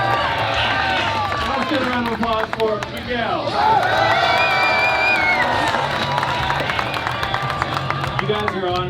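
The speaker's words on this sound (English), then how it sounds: "Let's get a round of applause for Miguel." An audience whoops, shouts and claps for a young guitarist who played Eruption, a lively mix of cheers, whistles and scattered clapping that rises and then settles.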